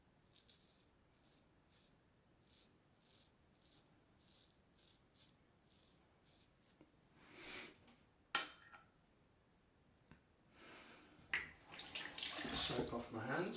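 Running tap water while soap is rinsed off hands during a straight-razor shave, preceded by a rhythmic run of rattling strokes, then swelling into a louder, steady splashing flow near the end.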